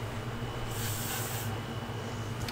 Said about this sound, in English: I'm going to spray it with WD-40 spray first,